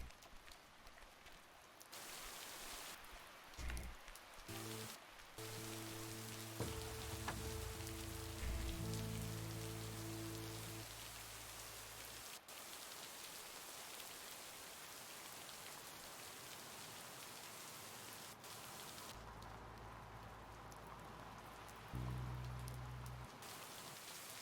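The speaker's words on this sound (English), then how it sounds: "the rain is also very loud" Heavy rain pours steadily and loudly on outdoor surfaces near a lake in a small town, a dense continuous hiss with a few brief low thumps and tones early on.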